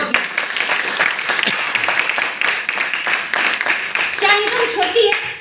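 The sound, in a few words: audience clapping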